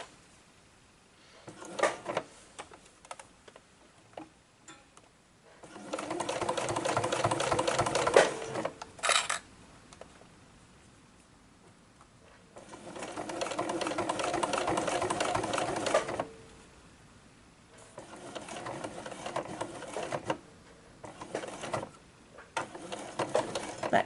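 A sewing machine stitches a glasses case in two long, steady whirring runs with a few short bursts around them, close by and moderately loud, with quiet pauses between.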